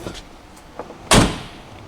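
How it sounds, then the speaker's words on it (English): A car door is shut with one sharp, solid thud close by, after a few faint clicks and rustles inside the vehicle. "let me shut this door"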